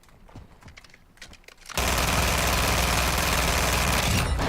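Video game gunfire starts with a few light taps, then erupts into a loud, unbroken automatic burst that roars on for almost three seconds before cutting off.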